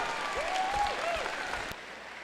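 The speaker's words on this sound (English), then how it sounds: "Let's give them a round of applause" Faint applause rises from the audience at the 2015 PNW FIRST robotics alliance selection in Auburn Mountainview after a team accepts an alliance invitation. The clapping is brief and quiet and fades out near the end.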